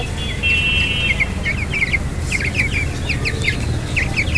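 Broiler chicks raised at home chirp in a steady stream of high, repeated peeps over a low background hum, several birds calling close together throughout.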